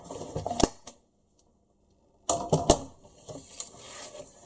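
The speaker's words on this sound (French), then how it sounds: "on va couper celle-ci en deux" Scissors cut an envelope in two at close range, with crisp snipping and rustling paper in two bursts separated by about a second and a half of silence.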